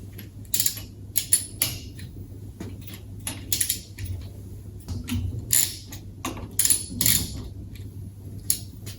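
Superbolt jack bolts being loosened on a load-sensing tensioner with a hand tool, giving a run of sharp metallic clicks and clinks in irregular bursts over a low steady hum, close and fairly quiet, with no talking.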